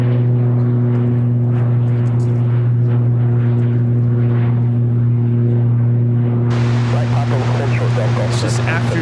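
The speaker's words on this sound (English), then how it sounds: "This Grand Caravan taking off to Quincy, Southern Airways Express 488." A Southern Airways Express Cessna Grand Caravan turboprop takes off from Chicago O'Hare with a loud, steady droning hum made of strong, even tones. A harsher burst of broadband noise swells in toward the end.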